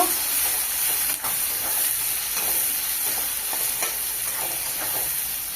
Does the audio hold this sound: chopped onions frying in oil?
yes